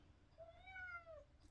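A single house cat gives one clear, drawn-out meow lasting under a second, close and fairly quiet against a faint room background, with no talking.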